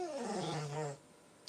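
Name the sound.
dog whimpering and growling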